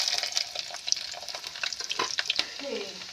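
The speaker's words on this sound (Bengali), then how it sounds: "এবার আমি এই মাছের তেলে মশলাগুলো কষিয়ে নেব।" Garlic and spices frying in leftover oil from fried koi fish: a close, crackling sizzle broken by quick stirring scrapes and spatters, easing slightly at the end.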